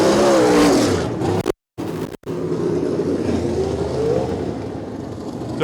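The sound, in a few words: sprint car race engines, car spinning in turn 2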